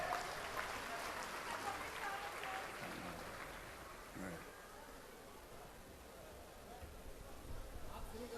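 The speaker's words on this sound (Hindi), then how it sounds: "जोर से ताली बजाइए" A devotional gathering's audience claps in a sustained burst of applause, fairly distant and soft, with a brief dip midway before the clapping swells again.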